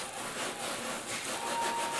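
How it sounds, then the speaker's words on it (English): A ceramic plate's unglazed base is rubbed up and down on a sheet of sandpaper to flatten it, giving a steady, continuous close-up rasping scrape with gentle swells in loudness and no voices. "I take the plate and I rub it up and down along the piece of sandpaper"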